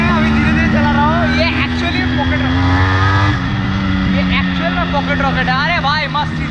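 A Yamaha RX100 two-stroke motorcycle converted into a dirt bike putters along at slow speed, its engine holding a steady buzzing drone with a shift in pitch midway. The sound is loud and close, and a rider talks over it.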